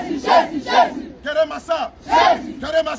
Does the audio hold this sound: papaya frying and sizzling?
no